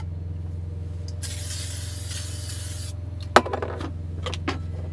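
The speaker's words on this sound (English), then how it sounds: "While that's going, I'm going to take my coconut spray" A can of coconut cooking spray hisses in one steady burst lasting under two seconds, followed by a sharp clink and soft kitchen clatter.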